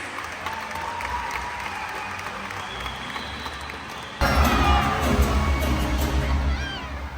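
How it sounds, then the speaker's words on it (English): Stadium audience at a SeaWorld San Antonio orca show claps for volunteers, soft distant applause that suddenly swells louder with cheering, children's shouts and whoops, then a bright musical sweep emerging beneath. "Everyone, let's give a big round of applause to our audience volunteers."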